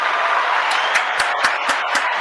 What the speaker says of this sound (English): Let me get a round of applause for Zach Wilson.